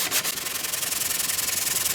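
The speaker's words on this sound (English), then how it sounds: "we're just going to give this a good tickle with a sandpaper and make sure it's nice and straight and flat." A guitar part is rubbed with 80 grit sandpaper in fast, even back-and-forth strokes, a close, rhythmic scratchy rasp with no talking.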